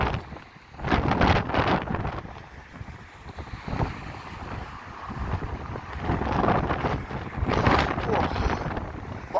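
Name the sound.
strong wind on Blackpool promenade by choppy sea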